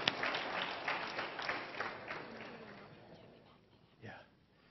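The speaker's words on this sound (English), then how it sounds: "Can we give him a clap of praise?" Church congregation clapping in praise during a worship service, a broad wash of applause that fades gradually over several seconds before a brief voice at the end.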